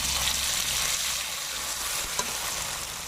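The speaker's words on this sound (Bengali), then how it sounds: "রাখা মশলাগুলো তেলে ছেড়ে দিব" Bay leaves, dried and green chillies and black cumin fry in hot oil, giving a steady, close, even sizzle with one small pop.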